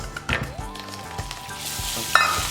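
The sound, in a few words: butter added to hot caramel, sizzling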